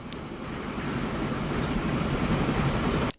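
An oil train rolling along in the video game Transport Fever 2, a steady rumbling rail noise with faint clatter that holds evenly for about three seconds and then cuts off abruptly.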